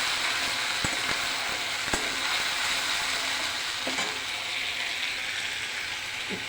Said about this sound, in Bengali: পরিমাণ মতো মশলাটা দিয়ে মশলাটাকে একটু কষিয়ে নিতে হবে